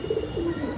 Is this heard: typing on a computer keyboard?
no